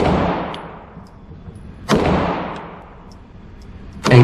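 Pistol shots from a Glock 45 MOS upper on a Glock 19 Gen 5 lower, three sharp loud cracks spaced about two seconds apart, each trailing off in a long outdoor echo.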